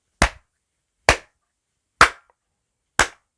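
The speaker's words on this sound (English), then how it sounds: "The doctor clapped his hands sarcastically" Four slow, sarcastic hand claps, sharp and close, spaced about a second apart with silence between them.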